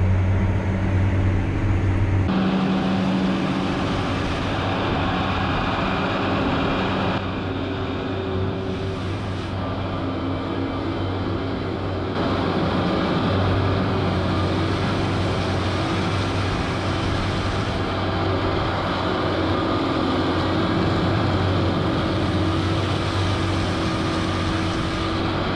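A Versatile Nemesis 210 tractor mowing triticale with its PTO running, its engine a steady, loud, continuous drone with a low hum throughout and no voices.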